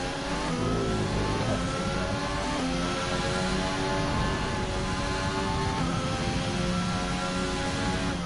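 Formula 1 car engines in the racing game F1 2020 drone and rev steadily at high pitch, a dense, loud, continuous whine of several cars with shifting tones and no voices.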